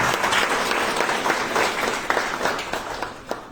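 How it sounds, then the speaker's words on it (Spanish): An audience at a civic celebration and oratory contest in Espíndola claps together, a fairly loud, dense burst of applause that thins out and fades toward the end. "Le brindemos el fuerte aplauso también a él."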